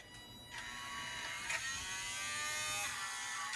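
A small two-wire DC motor runs with a steady high-pitched electric whine and buzz, rising and shifting in pitch a few times as it speeds up and slows, close and continuous with no talk.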